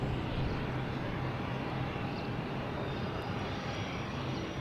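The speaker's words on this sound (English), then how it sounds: "when this plane's taking off." An airplane takes off at Boston's Logan airport, its engines producing a loud, steady, broadband roar that fills the whole stretch without easing, with no voices over it.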